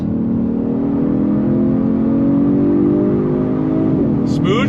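A 2022 Genesis G70 Sport accelerates through its 8-speed automatic, a loud, close engine drone rising steadily with a smooth gear change near the end, as a voice speaks briefly over it.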